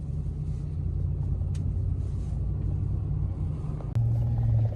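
Steady low rumble of road traffic from inside a vehicle on a foggy, busy road, loud and continuous with a brief dip and a heavier surge near the end.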